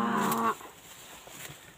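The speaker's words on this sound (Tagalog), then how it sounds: "Baka yan o kalabaw." A cow or carabao (water buffalo) gives a single loud, close moo lasting about half a second, then fades into quiet rural background.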